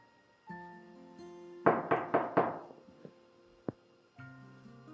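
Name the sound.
knocking on a door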